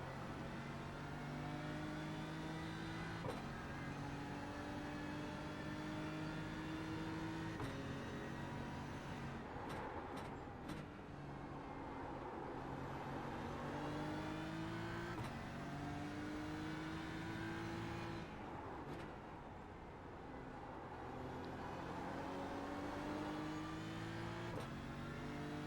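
Race cars in an iRacing IMSA event at Watkins Glen, including a BMW M4 GT3, roar past one after another, engines rising and falling through gear changes in a continuous loud drone.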